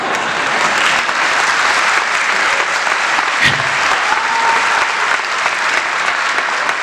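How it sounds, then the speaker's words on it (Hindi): An audience in a hall at a Hindi humour and laughter stage show gives continuous, even applause, with many hands clapping at a steady level throughout and a brief knock partway through. "जितनी तालियां आपने मेरे लिए बजाई उतनी तो मैं अकेला भी बजा सकता था"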